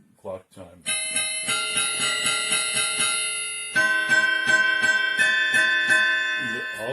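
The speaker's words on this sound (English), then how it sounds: "This one I love, the clock chime." A clock chime voice on a STRICH 88-key digital piano rings out as bright, overlapping bell-like tones struck in a steady repeated rhythm, sustaining and shimmering with dissonant overtones, loud and close.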